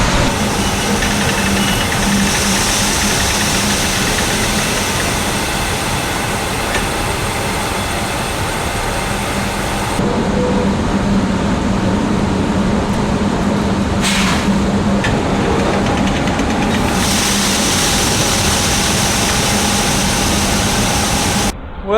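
A grain truck unloads into a hopper with a loud, continuous mechanical rumble and rushing drone, its texture shifting slightly partway through.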